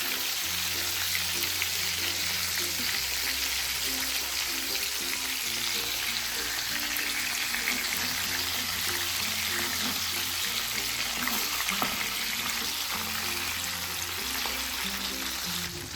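Rava-coated bangda mackerel pieces fry in a hot pan with oil, a steady close sizzle and crackle running unbroken throughout, with no talking.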